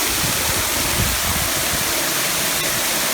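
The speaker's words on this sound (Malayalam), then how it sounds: "ഇതാണ് വെള്ളം വീഴുന്നത്" Nariampara triple waterfall near Kattappana pours down in a loud, steady roar of falling water, a continuous broadband rush heard up close with no break.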